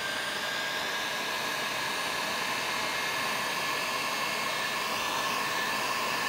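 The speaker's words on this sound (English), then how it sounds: "either a cigarette lighter or a heat gun just to shrink it down in place" A heat gun reaching about 370 degrees shrinks heat-shrink tubing during guitar control plate wiring, giving a steady, loud, continuous hot-air roar with no break throughout.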